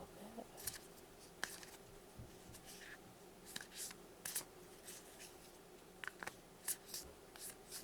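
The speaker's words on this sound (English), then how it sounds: "Just gonna shuffle a little bit." Soft, quick bursts of tarot cards being shuffled, a few riffles spaced across the clip, quiet and close against a faint background hum.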